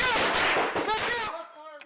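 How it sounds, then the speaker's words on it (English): A suspect's gunshot in police footage: a loud, sharp crack with a ringing echo, followed by a brief burst of indistinct voices and a fading tail near the end. "When the suspect fired the first round at us"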